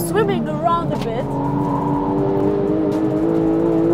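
A Porsche 991 GT3 at speed on the Nürburgring, its engine holding a steady, loud sustained drone beneath someone talking throughout.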